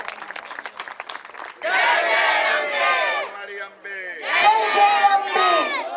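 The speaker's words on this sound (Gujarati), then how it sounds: "જોરદાર તાળીઓ થઈ રહી" A crowd at a children's garba festival prize ceremony claps and cheers, with loud bursts of shouting voices over applause that swell, dip briefly, then rise again.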